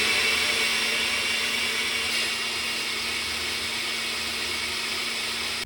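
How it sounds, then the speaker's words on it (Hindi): An electric blender whirs steadily at high speed, mixing yogurt, gram flour and spices in a kitchen, a loud continuous drone that stops abruptly at the end. "तो ये मैंने ब्लेंडर के अंदर दही डाला है, बेसन डाला है, कुछ मसाला जात हैं"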